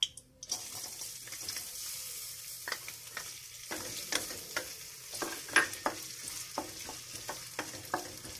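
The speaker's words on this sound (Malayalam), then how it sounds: "തേങ്ങാക്കൊത്ത് നല്ലതുപോലെ ഒന്ന് മൂപ്പിച്ചെടുക്കണം." Coconut pieces frying in coconut oil in a pan, a bright continuous sizzle close up with a steady run of quick spatula stirs and scrapes, no voices.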